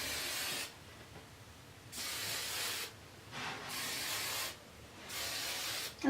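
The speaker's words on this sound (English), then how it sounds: "I love medium hairspray" Medium-hold hairspray hisses onto hair during a beach-wave and braid styling, four steady bursts of about a second each separated by short quiet gaps. The bursts are close and soft, with no voices.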